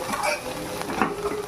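Gongura chutney stirred in hot oil in a pan, with a steady scrape and a soft sizzle running close and continuous through the short moment, with no talking.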